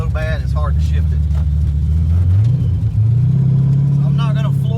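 A supercharged Ford 306 with a 12 lb Vortech T-Trim blower and AOD automatic accelerates at part throttle, the engine drone rising and shifting pitch near and loud, while someone talks over it.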